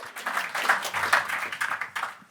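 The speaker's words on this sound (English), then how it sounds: "Give her a round of applause," A pitch-night audience gives a short burst of clapping, a quick patter of hand claps lasting a couple of seconds before fading out.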